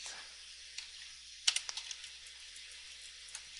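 Computer keyboard keys tapped during 3D modelling work on a wine bottle in Maya, a short cluster of sharp clicks midway and a lone press near the end over quiet room noise, no speech.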